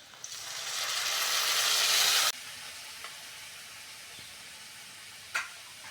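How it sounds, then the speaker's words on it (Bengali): Water poured onto lightly fried chopped onions in a hot pan sets off a loud, rising steam hiss that cuts off abruptly after about two seconds. A faint sizzle and a single utensil clink follow. "পেঁয়াজটা হালকা করে ভেজে নিয়েছি অল্প করে জল দিয়ে দেবো"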